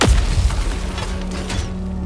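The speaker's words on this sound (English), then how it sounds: "The GL-21 is a fully automatic, belt-fed grenade launcher." GL-21 fully automatic belt-fed grenade launcher in the video game Helldivers 2, a heavy boom at the start followed by a rumbling tail and faint distant pops, with no talk.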